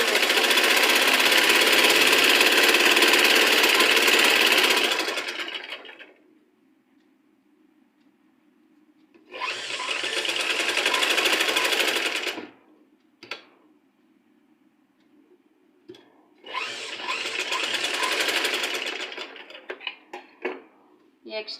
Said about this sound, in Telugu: ఈ ఎడ్జ్లో స్ట్రైట్గా ఒక స్టిచ్ అనేది వేసేసుకోవాలి.